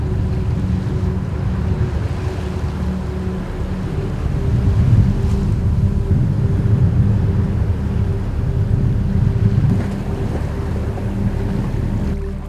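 Small boat crossing the Severn estuary in a rough wind-over-tide chop, with a loud, constant low engine drone mixed with rushing wind buffeting the microphone and surging water throughout.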